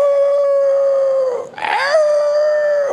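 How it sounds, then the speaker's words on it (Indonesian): A dog howls in one long sustained wail, steady in pitch, then briefly wavers and rises before settling back into the drawn-out howl, loud and close with no other sounds. "Pernah dengar anjing melolong gak?"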